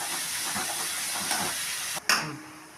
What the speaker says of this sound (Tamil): இதை இப்போது நல்லா வதக்கிப்போம்.